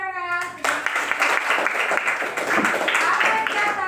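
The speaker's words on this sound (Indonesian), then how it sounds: "tepuk tangan." A group of children clapping their hands together in a classroom during a movement game, a dense stretch of rapid, overlapping claps after a brief tonal sound at the start.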